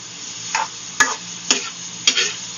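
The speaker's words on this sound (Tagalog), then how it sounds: "Saute again. Saute." Ingredients being sautéed in a pan for a home-cooked lunch dish: four distinct scraping stirs land about half a second apart over a faint sizzle, close and clear, with no talking.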